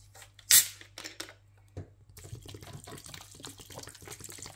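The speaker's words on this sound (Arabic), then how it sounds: "هلا بدي زيد لها المي" Water poured into a pot of lentil soup on the stove, with a brief splash followed by a steady, moderate trickling pour, close by.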